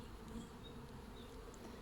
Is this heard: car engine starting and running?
no